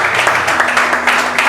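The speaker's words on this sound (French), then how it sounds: "Est-ce qu'on peut applaudir pour Junior?" A brief burst of applause from a crowd, dense steady clapping with no pauses, fairly loud and close.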